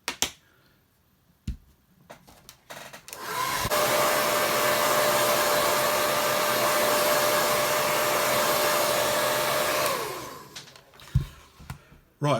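A hair dryer dries a watercolour wash painting, running steady and loud for about seven seconds after a few faint clicks and handling noises, then switching off.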